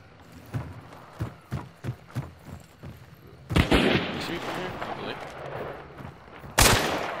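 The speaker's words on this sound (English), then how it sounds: "Somebody else is shooting at you guys" Gunfire in the video game Hunt: Showdown comes as a run of sharp, evenly spaced shots followed by two loud blasts, one with a long noisy tail, with players talking over the action.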